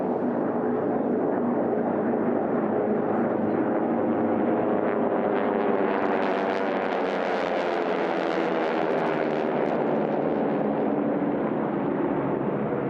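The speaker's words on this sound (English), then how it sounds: "T6 is line abreast coming by in front of us here at the home pylon" T-6 racing aircraft flying line abreast past the home pylon at an air race, a loud continuous roaring drone that swells and brightens as they pass close by, with no talk.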